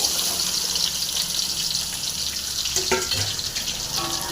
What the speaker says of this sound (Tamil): இந்த பாவக்காய் க்ளீனாக வந்து எண்ணெயில் போட்டு க்ளீனாக ஃப்ரை பண்ணிடலாம்